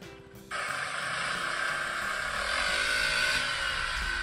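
A Honda ADV160 scooter fitted with a JMCA-certified Yamamoto Racing muffler starts up after a brief pause and settles into a steady, moderate exhaust drone that rises slightly, close by with no talking.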